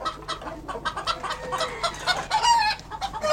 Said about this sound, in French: Ça, c'est ma poule préférée.